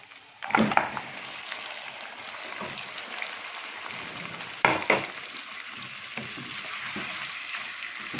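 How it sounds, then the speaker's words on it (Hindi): Mutton sizzling in a pot for Peshawari namkeen gosht, a steady frying hiss with a few louder clatters of stirring or pieces dropping in, close and continuous. "अब इसके अंदर हमने मटन ऐड कर देना है और मटन को कलर चेंज होने तक पकाते रहना"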